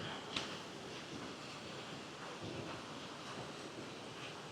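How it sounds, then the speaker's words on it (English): Creek water rushing at Lower Falls Creek in Gifford Pinchot National Forest, a steady broadband roar heard from a cable bridge, fairly distant and even throughout, mixed with some wind. "You can see that water flowing down there."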